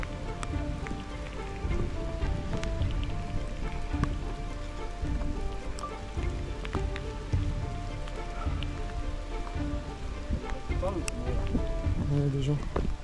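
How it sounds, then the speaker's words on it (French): Summer thunderstorm rain pouring onto surfaces during a bivouac outing in the Var, a dense steady patter of drops close by, continuous and fairly loud, with voices talking under it. "On se prend un bon orage d'été là"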